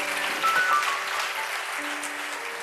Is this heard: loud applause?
yes